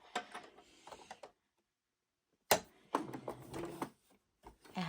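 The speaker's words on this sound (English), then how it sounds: "now we're going by with the sewing machine" A sewing machine with a 1/4-inch foot stitches an apron's fabric in short mechanical bursts, a rapid whirring clatter that stops for a moment, then starts again and runs on.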